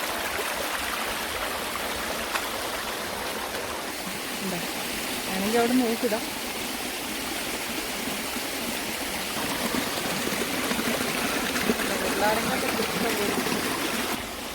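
Water flows and splashes steadily in a stream, a continuous close rush, while a person speaks briefly over it.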